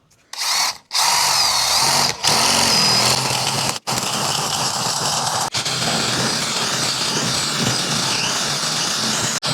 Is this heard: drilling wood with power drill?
yes